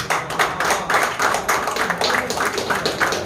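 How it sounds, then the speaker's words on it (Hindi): Audience clapping at a prize distribution function, loud and close with sharp individual claps in a steady rhythm throughout. "दोस्तों जोरदार तालियां हो जाए"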